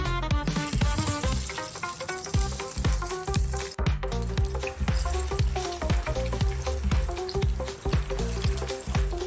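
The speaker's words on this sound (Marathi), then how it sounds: "आता आपण हे फ्राय करून घेऊ" Chicken kebabs deep-frying in hot oil, a loud continuous sizzle and bubbling with rapid crackling pops running throughout, no voices.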